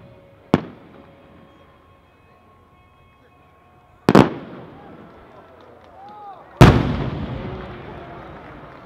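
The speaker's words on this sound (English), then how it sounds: "The next shell up is a 5-inch Dotata" Three 5-inch firework shells burst at a showcase, each a sharp, loud boom followed by a crackling, fading tail, spaced a few seconds apart with quiet between.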